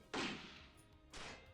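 A gunshot played back on a recording in the Ace Attorney Investigations 2 video game arrives as a faint, muffled thump, followed by a second softer impact about a second later.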